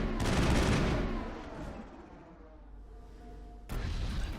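A grenade blast in Mass Effect bursts loudly at the start and rolls off into a fading rumble. A second sharp burst cuts in near the end.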